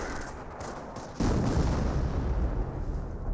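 An artillery barrage in Company of Heroes slams in with a sudden loud onset, then rumbles on as a continuous heavy roar of explosions.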